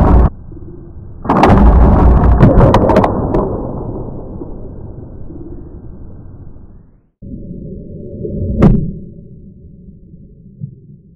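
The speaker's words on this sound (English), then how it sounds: "I'm going to go ahead and shoot it into the concrete" A hybrid broadhead arrow is fired into concrete with a sharp, loud crack, followed by a ringing, decaying tail, then a second hard metallic impact with lingering resonance.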